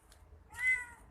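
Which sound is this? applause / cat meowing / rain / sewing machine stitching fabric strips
cat meowing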